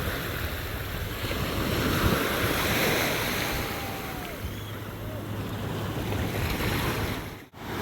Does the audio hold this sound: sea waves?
yes